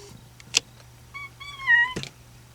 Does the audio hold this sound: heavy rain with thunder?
no